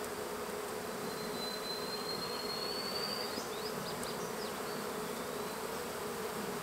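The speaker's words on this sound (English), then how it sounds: "Look how many bees I already got on there." A dense, continuous buzzing of many honeybees from a rescued colony in a hollow tree hums steadily throughout, close and even, with no voices.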